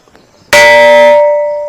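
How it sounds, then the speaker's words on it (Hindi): A stone at Benisagar in West Singhbhum is struck once and gives a loud, sharp, bell-like clang that rings on with a clear metallic tone and slowly fades. "जहाँ पे भी ठोक दो घंटी की आवाज आएगा।"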